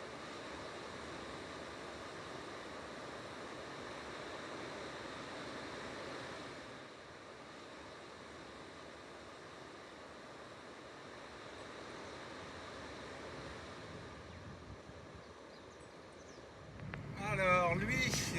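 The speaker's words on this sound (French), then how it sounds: "Je vais attendre 2-3 séries de vagues, voir ce que ça donne" Ocean waves wash onto a Japanese shoreline near a waterfall, a steady faint surf rumble with wind across the microphone, swelling into a louder rush near the end.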